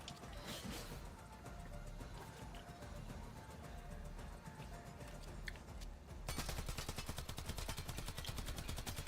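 Turret gunfire in the video game Warframe: low rumbling combat noise gives way to a loud, steady rapid-fire rattle of shots in the last few seconds.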